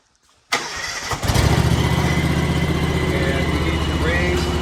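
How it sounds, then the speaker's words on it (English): A John Deere X738 lawn tractor engine cranks briefly and catches, then settles into a loud, steady, throbbing idle close by. "first step is to start the mower"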